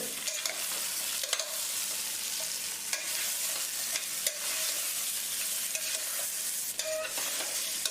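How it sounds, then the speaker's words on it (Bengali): Mutton frying briefly in oil with pre-roasted spices, a soft steady sizzle broken by periodic clinks and scrapes of a spoon stirring the pot. "মাটনটা তেলে একটু ভাজতে হবে।"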